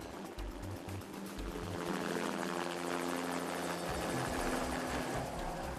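A helicopter in flight on a hunting trip gives a steady, fairly faint rotor chop and engine whir heard continuously throughout, with no talk over it.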